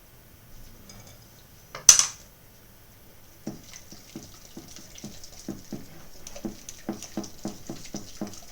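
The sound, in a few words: whisking chocolate cake batter in a bowl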